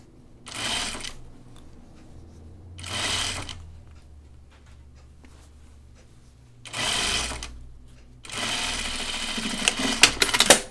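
Domestic sewing machine running a seam on a shirt dress in several separate bursts of steady whirring, the last longest and loudest, with quiet handling noises between them, close up.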